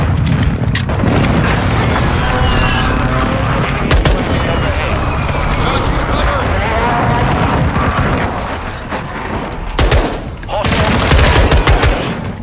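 Dense gunfire and booming blasts in Modern Warfare 2, loud and nearly continuous with rapid automatic bursts, a brief lull near the end before heavy shooting resumes, with speech mixed into the din.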